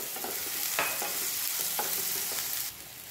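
Ginger, garlic, green chili and garam masala sautéing in a pan give a close, steady sizzle broken by several sharp scrapes of stirring, with no talk.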